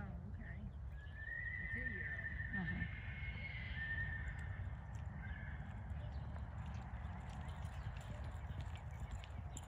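A horse whinnies in a long high call early on. Steady hoof clip-clops run underneath on an outdoor riding ground, with background noise throughout.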